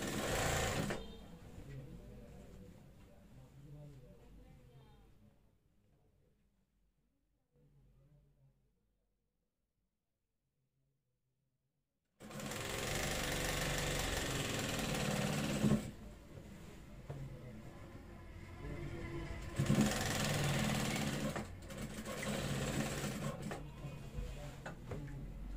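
A sewing machine stitches a round-collar school kameez in short bursts of rapid mechanical whirring, falling silent for several seconds in the middle before a longer, louder run of stitching resumes.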